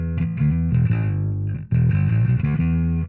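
A bass guitar plays through a Darkglass distortion effect, a thick, gritty low tone in two loud riff phrases separated by a brief break, with no voices.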